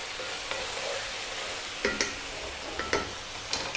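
Onions frying in a pan for a South African tomato bredie, a steady close sizzle with a few sharp scrapes and knocks as a spoon stirs them every second or so.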